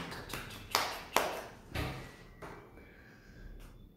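A few sharp hand claps close to the microphone during a K-pop idol's live broadcast, a quick uneven burst of three or four claps in a quiet room.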